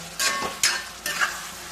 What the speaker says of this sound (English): So friends, I'm still frying it